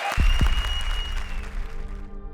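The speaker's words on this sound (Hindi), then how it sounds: "जोरदार तालियां कपिल और पार्वती के लिए" A studio audience on a TV comedy show claps, with two sharp loud bursts at the start settling into lighter, fading applause.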